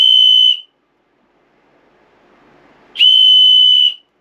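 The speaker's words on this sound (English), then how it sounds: "Oh, that's an emergency whistle." A small emergency whistle blown in two loud, piercing shrill blasts, each about half a second to a second long, separated by a quiet breathy pause, close to the listener with no voices.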